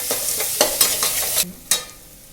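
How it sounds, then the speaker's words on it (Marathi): A spoon scrapes and stirs sizzling masala with yogurt in a pan for egg biryani, a steady fry hiss broken by several sharp stirring clatters near the mic. "गॅस बारीकच करायचं आहे आणि छान मिक्स करून घ्यायचं आहे"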